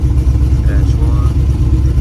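A twin turbo LS V8 in a G-body car idles with a deep, loud, steady rumble, faint voices blending into the engine drone.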